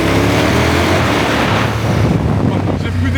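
A KTM 1290 Super Adventure S motorcycle riding on the road, with a steady, loud engine drone and heavy wind rush running throughout.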